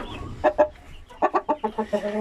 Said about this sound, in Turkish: Horozum çok güzel.